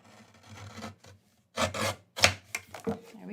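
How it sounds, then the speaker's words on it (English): Excess paper is trimmed off a card base for a Valentine card, giving short bursts of close rubbing and rasping cuts separated by brief pauses, with no talking. "that's a little bit too large, so I'll simply trim that"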